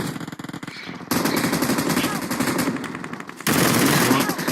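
Rapid bursts of automatic gunfire ring out in a shooting video game, loud and dense, with a brief lull before another sustained volley.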